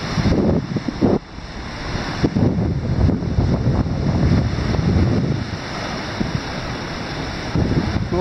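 Strong wind blows steadily on the Caspian Sea shore near Aktau. It roars and buffets the microphone with constant rumbling gusts, and there is no talk.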